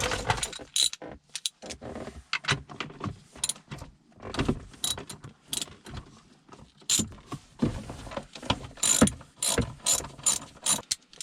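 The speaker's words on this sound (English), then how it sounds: "we're going to go ahead and remove these 4 bolts here" Ratchet clicking in rapid bursts while loosening 10mm bolts on the shifter base of a 9th-generation Honda Accord, close and crisp with short pauses between runs, no talking.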